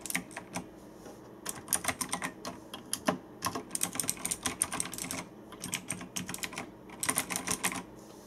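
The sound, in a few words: typing on Razer BlackWidow keyboard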